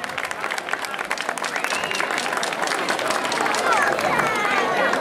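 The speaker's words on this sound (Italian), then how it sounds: "un applauso anche per loro" An outdoor carnival crowd in San Donato di Ninea claps for float number five, the Mickey Mouse house. The applause swells steadily, with crowd chatter and raised voices mixed through it.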